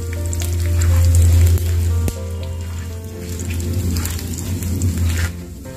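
Panch phoron spices hit two tablespoons of hot mustard oil in a pan over a low flame, producing a close, steady sizzle and crackle with a low hum underneath that eases slightly partway through.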